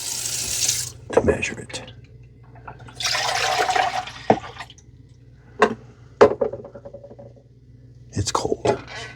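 Dirty water from the tank of a Dreame Aqua10 Roller robot vacuum and mop being poured out in short splashy bursts and trickles, with a person speaking between pours.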